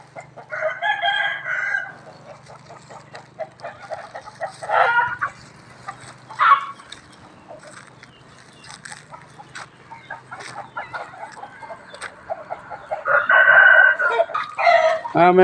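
Chickens cluck around a temple home in Chae Hom, Lampang, with a rooster crowing loudly several times, once near the start, again mid-clip and in a long drawn-out call near the end, over steady clucking.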